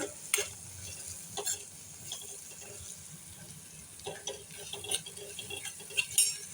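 Matki usal with Sunday masala being stirred in a pan: soft, quiet scraping and stirring with a faint sizzle underneath and a few sharper clinks of the spoon against the pan.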